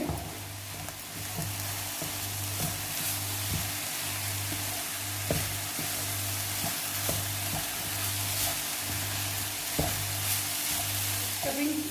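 A vegetable filling fries in a pan with a spoonful of vinegar while a spoon stirs it, giving a steady soft sizzle broken by regular scraping strokes and taps at a close, quiet level.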